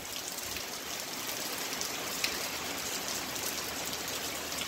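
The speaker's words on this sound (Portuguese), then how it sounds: "E tá chovendo agora no momento." Steady rain falling on a cloudy rural smallholding in Saloá, Pernambuco, a dense continuous hiss of drops without pause and with no talk.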